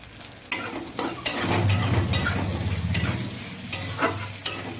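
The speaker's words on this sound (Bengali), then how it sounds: "পেঁয়াজটা আমি লাল লাল করে ভেজে নেব।" Chopped onions with a pinch of salt fry in a pan, a steady close sizzle broken by repeated scraping strokes as they are stirred toward browning.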